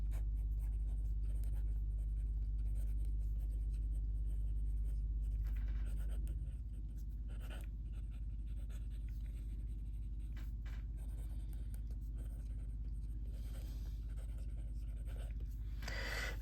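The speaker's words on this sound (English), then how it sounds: "let's do some writing" A Tom's Studio Wren fiber-tip fountain pen scratches steadily across paper in continuous strokes, heard close over a low, constant background rumble.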